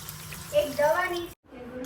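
Lukewarm water runs steadily from a tap for hair washing, making a close, continuous rushing flow. People talk over it, and the sound cuts out briefly near the end.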